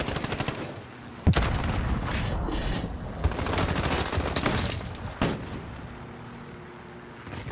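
Rapid bursts of gunfire in Call of Duty: Modern Warfare, loud and close, with sharp single shots at intervals over continuous automatic fire and game noise.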